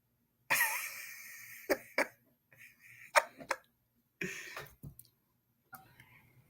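A handful of separate coughs and throat-clearing bursts, close to the microphone, with quiet gaps between them.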